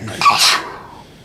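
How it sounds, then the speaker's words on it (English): A single short, sharp sneeze-like burst, close and fairly loud, fading quickly. "Those were sneezes, by the way."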